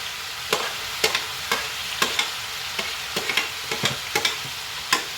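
Chopped tomatoes cook in a pan, a low steady simmering sizzle punctuated by regular sharp clicks and scrapes of a utensil stirring, close and moderate in level, with no speech.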